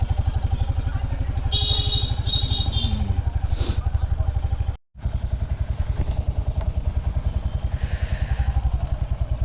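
A motorcycle engine idles at night outside a hotel restaurant in Rajkot, a close, steady, rapid low thudding with rattly clatter, briefly cutting out midway before resuming.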